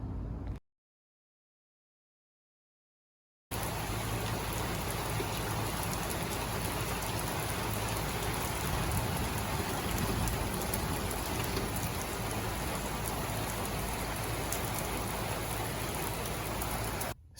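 Heavy rain pours steadily for several hours, a dense, even roar of drops on surfaces with low rumbling underneath, continuous and loud after a short gap of silence at the start.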